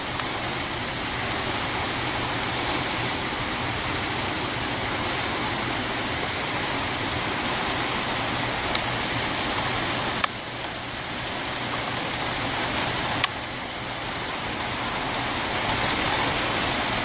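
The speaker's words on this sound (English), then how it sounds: "Yeah, now you can see the rain." Steady, dense rain falls as a cold front storm passes, a constant hiss of drops hitting surfaces at even loudness throughout.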